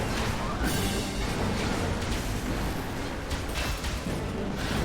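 Shogun battleships bombarding a base in Red Alert 3, a continuous dense barrage of heavy booming impacts and explosions, loud and unbroken, with talk running beneath the din.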